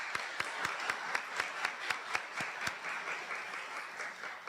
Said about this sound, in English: So one more round of applause there.